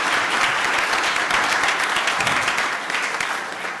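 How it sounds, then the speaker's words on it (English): An audience breaks into full, dense applause at a talk on Miami record-making history, steady and loud before easing off slightly near the end. "It merited an applause."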